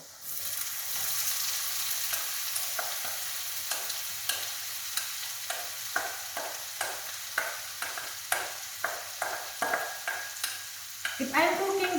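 Chopped onions sizzle in a hot pan for siopao asado filling, with a steady frying hiss broken by regular, rhythmic scrapes of stirring that grow sharper toward the end.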